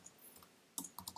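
A few quick clicking keystrokes on a computer keyboard, entering a terminal command during a web app build, come in a short soft cluster with no talk.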